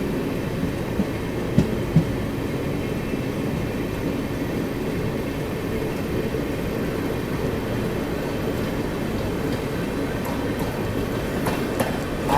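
A superfast passenger train of ICF coaches rolls through Singarayakonda railway station with a steady loud rumble and faint wheel clatter throughout, no voices.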